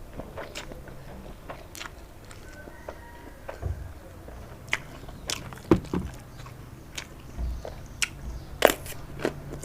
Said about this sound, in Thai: กินมาม่าเผ็ดมาเลเซียครับ